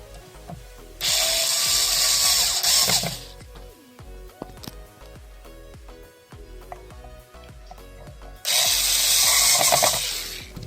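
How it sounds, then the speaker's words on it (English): A screw driven in with a power driver to fasten an encoder on a model 928 unit, two loud sustained whirring bursts separated by quieter clicks and handling noises. "Once aligned, we have to screw in the screw."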